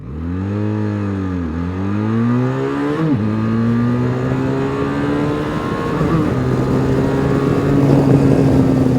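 A QJMotor SRT 500 motorcycle engine revs hard and pulls through the gears, its steady tone climbing, dropping briefly at a shift around three seconds, then rising again with rushing wind noise building close to the mic.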